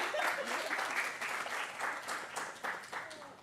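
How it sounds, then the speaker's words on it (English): An audience at a women's empowerment panel claps, a continuous burst of moderate applause from a seated crowd that carries through and tapers slightly at the close. "You can clap."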